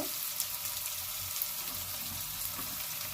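Garlic sizzles in hot oil alongside lightly browned onions in a pan, part of a prawn biryani being cooked at home. A steady, soft frying hiss runs throughout with no talking.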